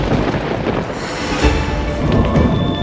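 Heavy, steady rain roars throughout, with a low rumble of thunder swelling near the middle and again toward the end. No voices are heard.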